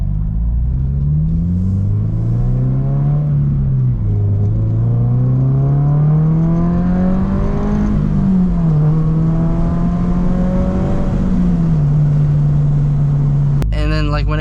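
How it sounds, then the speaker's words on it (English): A Subaru BRZ's engine rumbles steadily as the revs climb, dip and climb again, a deep exhaust note rising and falling over several seconds of acceleration. "I'll do a little acceleration to hear the exhaust note"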